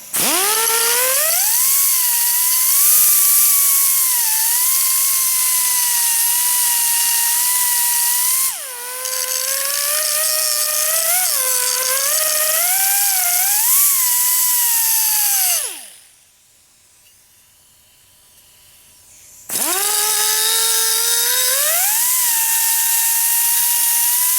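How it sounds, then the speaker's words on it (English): An electric grinder rounds off the corners of a Kawasaki KLT 200C motorcycle tank cover, with a loud, close whine that rises and falls in pitch under load. It cuts out for a few seconds, then starts up again. "I want to now grind these corners here, get those rounded off"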